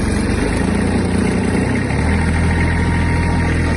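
A Kubota GB-15 Japanese mini tractor engine runs steadily in first gear, a loud, close, continuous mechanical drone with vibration and no voices.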